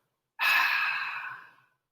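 A single clearing breath pushed out through the nose in a guided vinyasa yoga session, a close, breathy exhale lasting over a second that begins strongly and slowly fades away, with no talking over it.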